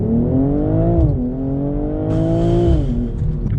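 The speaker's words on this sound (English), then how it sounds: "hold the brake, hold the throttle, you'll have launch control, and then just release the brake" A BMW M240i xDrive accelerating hard from a launch control start, with a loud engine note climbing through the revs, dropping at gear changes and rising again, heard from inside the car without talk.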